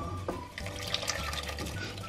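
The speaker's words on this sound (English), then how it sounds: "Now we're ready to add in the mung to our mixture here. So we're just gonna slowly pour that in." Mung dal poured slowly into a cooking mixture in a pan, giving a steady close-up trickling, liquid-like pour with a few soft dribbles over about two seconds.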